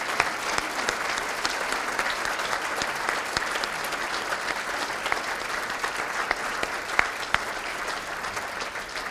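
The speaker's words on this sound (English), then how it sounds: "how about one last round of applause for all of our heroes of character?" Steady applause from the audience at a character recognition ceremony honoring heroes of character, a sustained even round of clapping with scattered sharper claps, heard at moderate distance.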